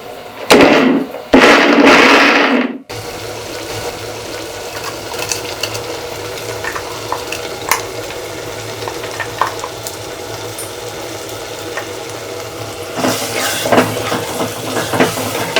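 Food sizzles and crackles in a hot pan while sautéing ground tomato for kanakatha fish curry, with a few louder bursts of frying and scraping early on, then a steady sputtering sizzle continuing throughout.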